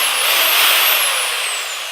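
Bosch GSB 10 RE corded 500-watt electric drill running steadily while tightening a hex socket, a loud, even motor whine with a high tone slowly falling, alone for two seconds.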